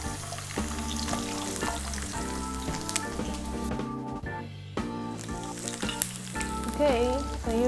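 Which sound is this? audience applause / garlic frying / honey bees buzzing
garlic frying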